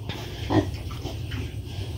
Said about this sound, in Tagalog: At ito na rin po yung kaniyang mga biik